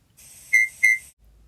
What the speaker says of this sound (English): When you hear Thomas whistle, turn the page.